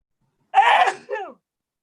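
A single sneeze during an online Microsoft Teams meeting: a sharp burst followed by a shorter trailing breath, close to the microphone, with no talk over it.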